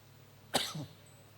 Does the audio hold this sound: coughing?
yes